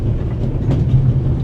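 A train runs on rails in the video game The Raven Remastered, a steady loud low rumble with faint rhythmic clatter from the wheels, continuous and close, with no speech over it.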